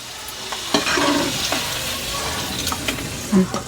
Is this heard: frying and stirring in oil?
yes